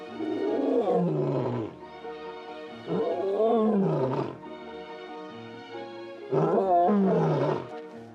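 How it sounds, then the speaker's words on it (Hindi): A young lion roars three times in separate deep, groaning bouts, each lasting over a second with short pauses between, loud and close with no other sounds. "किशोर शेर शायद ही कभी दहाड़ते हैं, लेकिन जब ऐसा करते हैं तो उसमें उनके झुंड, उनके रिश्तों और ताकत की कहानी छिपी होती है।"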